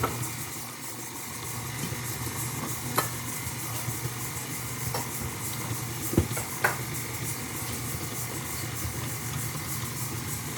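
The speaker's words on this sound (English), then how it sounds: "put the paddle on, and literally now just mix it till it breaks down the almond paste even more" Stand mixer with paddle attachment beating almond paste, sugar and softened butter, a steady close motor whir with faint knocks throughout, no talking.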